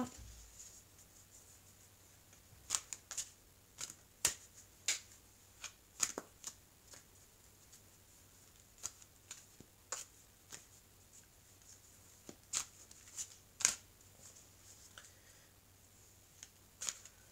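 Oracle cards being shuffled by hand, giving soft irregular riffles and taps, close and fairly quiet, with scattered sharper clicks over a low steady hum and no talking.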